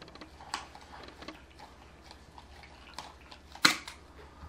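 Clippers trim a dog's nails, producing quiet, scattered clicks near the microphone that end in one sharper, louder snap.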